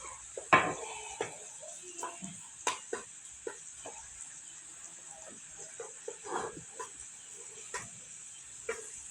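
Beefsteak sauce stirred in a pan: irregular light clinks and scrapes of a utensil against the metal pan, quiet and close, with a steady faint high hum behind and no talk.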